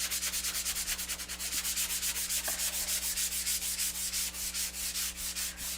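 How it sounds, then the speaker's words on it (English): Sandpaper rubbed over a painted surface to distress it, steady back-and-forth strokes in an even rhythm, close and fairly loud, with a low steady hum beneath and no speech. "I like to take a piece of sandpaper and distress this a little bit"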